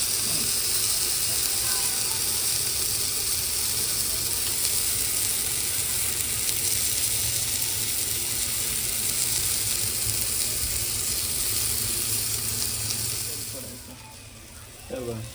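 Bombil (Bombay duck) fish frying in oil, a steady broad sizzle and crackle that holds evenly before dropping away near the end, with brief voices faintly underneath.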